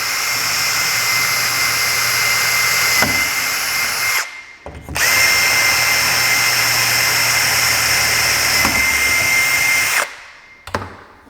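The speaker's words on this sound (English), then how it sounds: "I'm putting pressure against the style and from the bottom, and I start my drill." A power drill bores into a cabinet stile through a hardware jig while installing handles. It runs loud and close in two long, steady bursts, each stopping abruptly.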